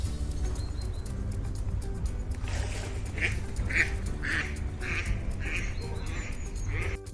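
Duck quacking in a children's alphabet song, a series of six or so evenly spaced quacks standing out over steady background music.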